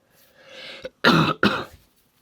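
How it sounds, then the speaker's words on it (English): Several harsh, hoarse coughs from a person in a thrift store aisle, a short throat-clearing burst followed by two loud close coughs in quick succession, with no talking. "I still have this cough"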